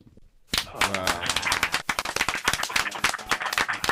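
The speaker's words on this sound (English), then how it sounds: "You definitely get hand claps for" A burst of quick hand claps starts suddenly and keeps going as dense, uneven claps from several people, with voices mixed in among them.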